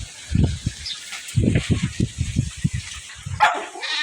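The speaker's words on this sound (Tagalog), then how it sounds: "At ito nga pala yung aking alagang aso na makulit yan, si Cooper." A dog barks in a rapid series of low, punchy woofs, some clustered closely together, with rustling and light background noise around them.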